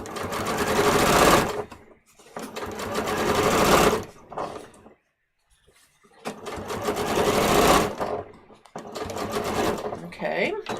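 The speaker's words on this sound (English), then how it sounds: "I'm just going to stitch it on" A sewing machine stitches twill tape onto fabric in four loud, close bursts of rapid whirring separated by brief pauses, with no talking while it runs.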